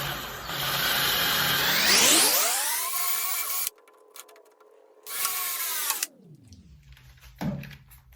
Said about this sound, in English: So let's start with the Forstner bit.